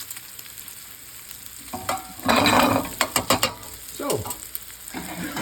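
Bacon and mushrooms frying in a pan: a soft steady sizzle with louder bursts of stirring and scraping, plus a brief spoken word.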